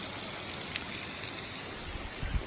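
A creek near a waterfall along the Pacific Crest Trail rushes in a steady broadband hiss, with a few louder splashes near the end.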